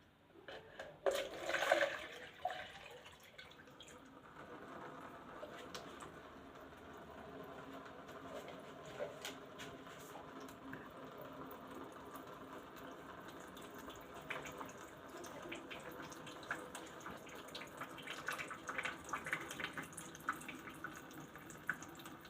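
A thin water jet streams from an opening in a container during a Torricelli's theorem fluid mechanics experiment, a faint, steady trickling splash that continues throughout after a slightly louder burst at the start.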